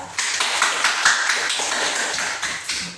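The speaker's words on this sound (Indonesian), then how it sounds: "tepuk tangan dulu" Students applauding in a classroom, a steady patter of many hands clapping at close range, fairly loud and without voices over it.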